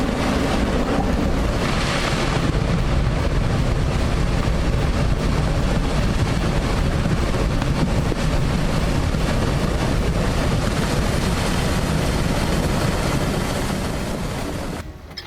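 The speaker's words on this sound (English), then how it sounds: "Lake Ruth quickly becomes intense as water flows over the dam" Water pouring over the Lake Ruth dam in a continuous white stream makes a steady, loud, dense roar with wind-like rushing that holds unbroken throughout, easing slightly only at the very end.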